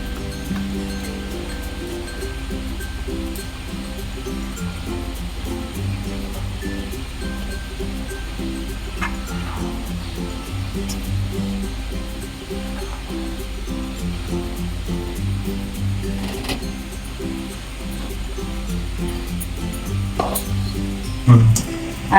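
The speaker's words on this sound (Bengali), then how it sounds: "এলাচ দেওয়ার পর আমার দুধটা ফুটে উঠলো যখন" Milk simmering with cardamom powder in a pot for Bengali payesh, a steady low bubbling and sizzling hiss that runs continuously, with occasional faint clinks of utensils.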